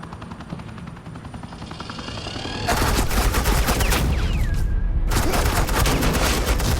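Suppressing gunfire erupts in Batman: The Enemy Within, a loud sustained burst of rapid automatic shots that starts abruptly after a quieter rumble, with a descending whine in the middle, continuing densely to the end.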